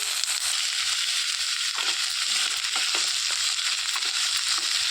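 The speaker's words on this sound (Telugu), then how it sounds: "ఇలా వేయించేసుకోవాలండి ఒక రెండు మూడు నిమిషాలు" Thinly chopped ivy gourd pieces fry in heated oil in a pan, giving a steady, close hiss of sizzling with occasional light scraping taps, no talking.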